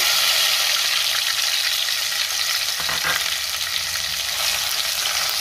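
Onion paste frying in hot oil with cumin makes a loud, dense, continuous sizzle close by, with a brief stir partway through.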